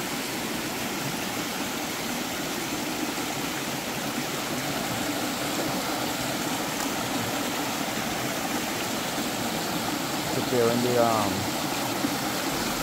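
A village river waterfall in Jamaica pours steadily, a broad constant rushing roar close by, with a voice speaking briefly over it near the end.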